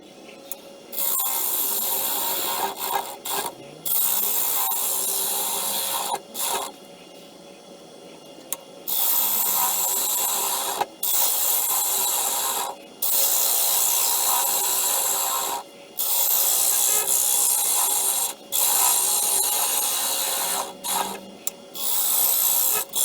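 An elm burr bowl is hollowed out on a wood lathe: a rough, rasping cut repeats in bursts of several seconds with short pauses between, over the steady whir of the machine, close and fairly loud.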